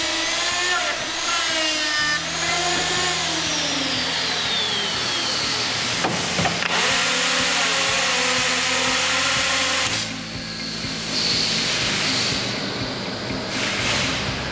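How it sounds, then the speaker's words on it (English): A Norfield 5000 machining center runs a door machining cycle, with steady motor whine, shifting tonal spindle sounds and bursts of loud cutting and routing into the wooden door, continuous and fairly close. "Press the Cycle Start button to initiate the machining cycle."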